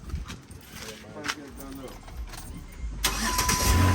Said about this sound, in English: We been crank the truck up, y'all.